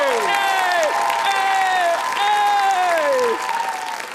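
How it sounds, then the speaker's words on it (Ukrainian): An audience on a TV game show breaks into loud applause, a continuous roar of clapping under bright sliding musical stingers that rise and fall, fading slightly at the end. "Великі гучні оплески!"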